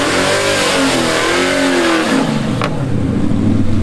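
A 1970 and a 1969 Dodge Charger launch in a drag race, V8 engines roaring loud and close, revving up in pitch before the sound shifts as the cars pull away.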